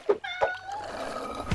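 A cat meows several times at close range: two short calls come first, then a longer drawn-out meow that rises and trails off.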